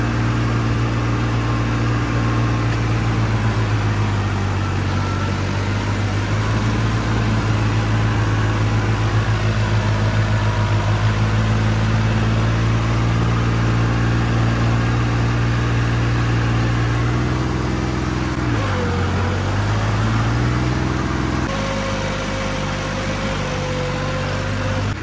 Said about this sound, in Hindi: हुण ट्रैक्टर कढ़ीए बाहर आपां